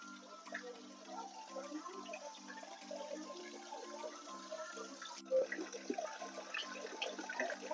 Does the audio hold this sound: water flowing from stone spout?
yes